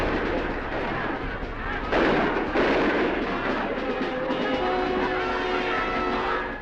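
Gunfire during the Soviet invasion of Czechoslovakia comes as a dense, loud, continuous roar of shots and blasts, with a steady ringing tone surfacing toward the end.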